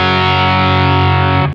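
A Les Paul electric guitar played through distortion rings out as one loud, sustained, heavily saturated chord that holds steady before being cut off abruptly near the end, with no voices over it.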